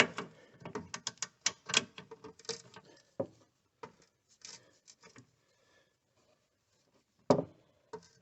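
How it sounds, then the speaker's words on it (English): Metal boxed end wrench working a strut bolt on a 2002–2007 Toyota Highlander, giving a burst of rapid clicks and ratcheting taps that thin out into scattered knocks, then one louder clank near the end. "I put the boxed end wrench down there, and I'm going to get on this one over here."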